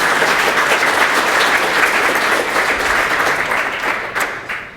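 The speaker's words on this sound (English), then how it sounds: "let's give him a round of applause to get this thing started." An audience at a Ruby programming conference applauds steadily, a dense wash of clapping hands that holds for several seconds before thinning out.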